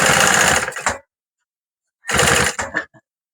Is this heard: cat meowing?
no